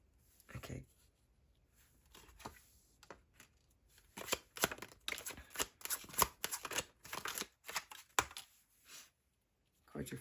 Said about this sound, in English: Cards are flying out on this side.